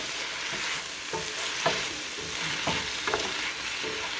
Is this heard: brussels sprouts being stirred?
yes